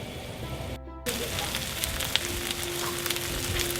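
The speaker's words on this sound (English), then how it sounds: "Listen to that sizzle." Sisig searing in a hot pan, giving a steady close sizzle with a brief gap early on before the frying noise comes back, plus scattered crackles and a faint steady tone underneath.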